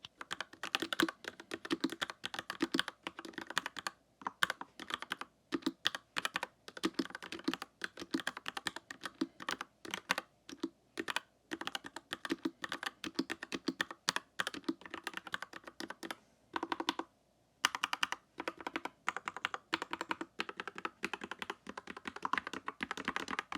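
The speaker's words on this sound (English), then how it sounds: "Let's do the typing exercise with these Gateron yellow linear switches." Continuous typing on a Royal Axe R68 TKL keyboard fitted with Gateron yellow linear switches, close-up keystrokes in steady bursts with brief pauses, soft clacks and thocks, no talking.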